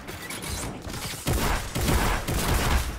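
Rapid bursts of gunfire in Fortnite crackle in quick succession, loud and close, with mechanical clatter between volleys.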